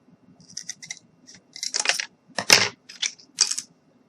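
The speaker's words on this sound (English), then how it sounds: "if you don't have shears, you can use scissors and you'll still get a clean cut" Scissors snip through plant stem ends while assembling a DIY fairy cottage, giving about eight short, crisp cuts close by, irregularly spaced and fairly loud, with no talking.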